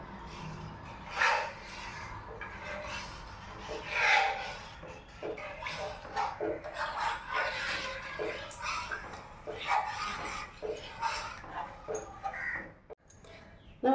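Ada pradhaman mixture is stirred in a pan, making repeated close scraping and rubbing strokes in uneven bursts, followed by a brief clatter at the end.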